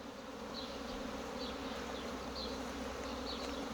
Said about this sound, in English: It's hard to see all the quantity of bees that are just buzzing around, but it's all around.